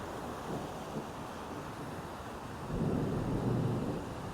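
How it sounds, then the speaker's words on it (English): Low thunder rumbles on a mountain hike in Rocky Mountain National Park, a steady broad roar that swells louder about two-thirds of the way through, with wind noise on the microphone and no talking. "Oh yeah, you guys hear that thunder?"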